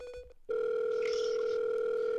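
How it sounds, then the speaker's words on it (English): Telephone ringing out on an outgoing call, a steady unbroken tone beginning abruptly after a brief stretch of quieter noise and holding loud and close to the end. "we're ringing up Henry right now."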